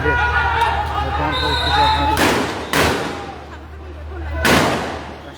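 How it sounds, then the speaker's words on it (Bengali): Police fire tear gas shells at protesters in Sylhet: three sharp, booming reports, fairly close, burst over crowd noise and background voices. "এই মুহূর্তে টিয়ার সেল নিক্ষেপ করা হচ্ছে"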